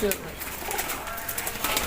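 Young pigeons give soft, continuous cooing close by in a loft, with scattered fluttering and a person talking nearby.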